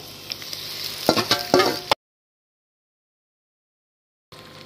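Spice paste added to lightly fried capsicum and onion in a pan for kadai paneer, a crackling sizzle with stirring scrapes and a few sharp bursts before it cuts to silence.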